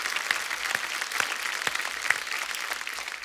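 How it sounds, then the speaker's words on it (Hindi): A studio audience on The Great Indian Kapil Show applauds the whole team. Moderately loud, continuous clapping carries a few sharper individual claps standing out near the front and holds steady for a few seconds. "एक बार जोरदार तालियां अवरोध की पूरी टीम के लिए"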